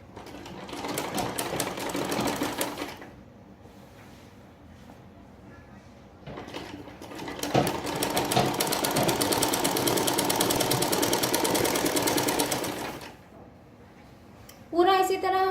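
A sewing machine stitches a nefa waistband onto a two-panel salwar in several bursts of whirring, one short and one long run, broken by quieter handling and someone talking.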